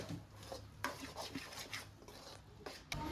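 Bottle gourd halwa stirred in a pan, with soft scraping and rubbing strokes from a spoon against the metal in an uneven rhythm, close by and fairly quiet, with no talking.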